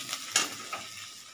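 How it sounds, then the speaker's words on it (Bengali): Egg chowmein ingredients frying in a pan, a soft steady sizzle broken by a few brief scraping stirs, close and moderately quiet with no talking. "এটা আরেকটু ভাজা ভাজা হোক, তারপর আমি চাউমিনটা দিয়ে দেবো"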